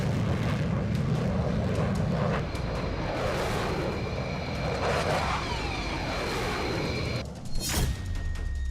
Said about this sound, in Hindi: पाकिस्तान बॉर्डर पर राफेल उड़ने लगे।